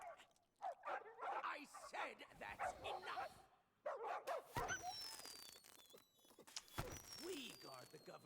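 Dogs bark and yip repeatedly in a video game set on Melee Island, fairly loud and mixed with game sounds, while someone talks over them.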